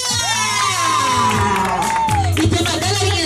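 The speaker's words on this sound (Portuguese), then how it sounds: "vou pedir uma salva de palmas bem forte pra Mara!" A party crowd at an anniversary celebration cheers loudly and steadily, with shouts, whoops and children's voices carrying over continuous applause for the honoree.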